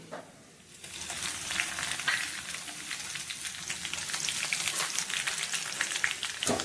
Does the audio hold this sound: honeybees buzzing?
no